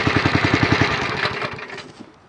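Diesel-type engine of a Florida Motorsports fire rescue truck built for TPD, idling close by with a loud, steady pulsing rumble that fades slightly toward the end.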